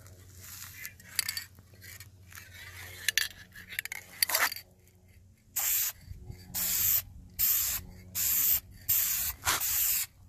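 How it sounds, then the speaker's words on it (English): Automotive primer sprayed from an aerosol can onto a car dashboard, a series of short hissing bursts separated by pauses, close and fairly loud, with faint rattling between sprays. "Spray this automotive primer on there."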